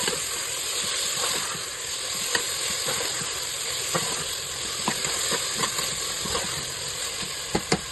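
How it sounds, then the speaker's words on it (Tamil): Ginger garlic paste sautéing in a pan for mushroom biryani gives a steady close sizzling hiss, with scattered small pops and crackles throughout. "நல்லா வதக்கி விட்டுக்கோங்க."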